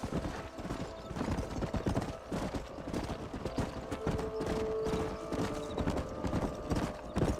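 Horses' hooves clip-clop steadily in the Red Dead Redemption video game, a busy rhythmic patter of several riders moving together, with a brief whinny and game ambience around them.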